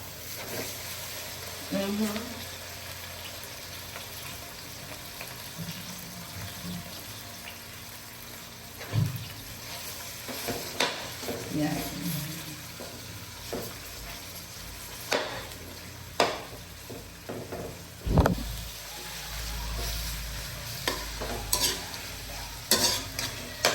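Pork sizzles steadily in a pan for a creamy spaghetti dish, with scattered clanks and scrapes of stirring over a low hiss, and faint background voices now and then.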